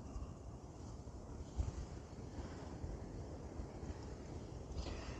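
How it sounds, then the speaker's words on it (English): Strong wind buffets the microphone outdoors at a campsite, a steady broadband roar with gusts swelling and easing over a few seconds, loud and close with no voices. "It is a very windy day, very windy"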